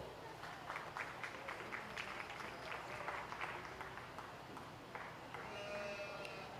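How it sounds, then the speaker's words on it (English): At a junior livestock show ring, an audience claps in a scattered round of applause, with animal sounds and murmuring voices underneath. "Let's give this young lady a big round of applause."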